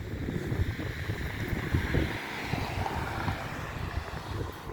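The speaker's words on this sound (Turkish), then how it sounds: "Rüzgar çıktı." Wind blows steadily outdoors in a garden, rumbling against the microphone in low gusts, with a faint airy hiss above and no speech.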